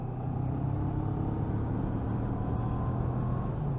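A CF Moto 650NK motorcycle engine drones steadily after a downshift, a low continuous rumble heard up close without talk.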